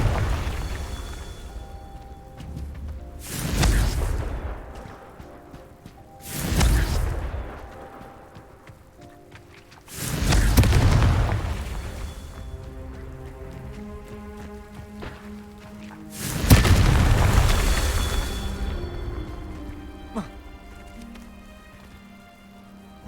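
Confringo blasting spell explosions in Hogwarts Legacy, five separate crackling bursts spaced a few seconds apart, each swelling and decaying over quieter game ambience.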